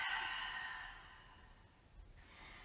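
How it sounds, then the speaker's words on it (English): A long, steady exhale through the mouth during yoga breathing, close and soft, trailing off gradually over a couple of seconds with no talking. "And exhale."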